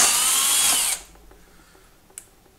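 A power drill runs loud and high-pitched as it bores a 5/16-inch hole for a kayak electronics mount, then stops abruptly, followed by a near-silent pause and one small click.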